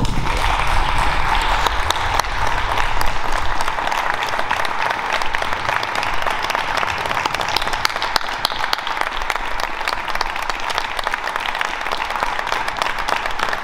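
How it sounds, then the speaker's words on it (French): A crowd at a civic celebration in Dijon applauds the opera team, with dense, continuous clapping that stays steady and fairly loud throughout. "Je voudrais qu'on vous applaudisse encore."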